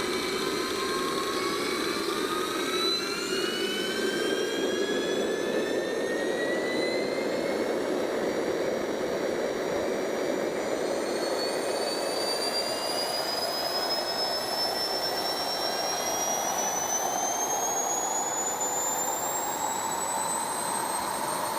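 A small jet engine on a test run roars loudly and continuously nearby, its whine rising slowly in pitch throughout as it spools up, with no voices over it.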